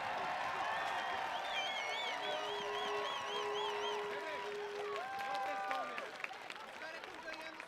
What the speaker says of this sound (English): We can hear the rumbling from the grandstands.